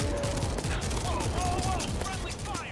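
Dense gunfire in World War Z, rapid overlapping bursts and shots crackling continuously at moderate loudness with voices talking over the fighting.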